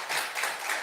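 A church congregation claps together in a brief, dense burst of applause, steady and fairly loud, with no voices over it.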